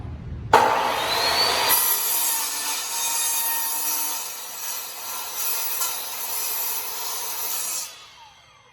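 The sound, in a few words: power saw cutting wood for coaster base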